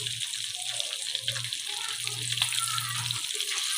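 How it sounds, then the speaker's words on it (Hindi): Fish sizzles steadily in a pan over medium-low heat, a continuous close frying hiss with faint low hum and small bubbling crackles, no voices over it. "अब हम आंच को मीडियम टू लो रखेंगे और फिश को पकने देंगे इसमें"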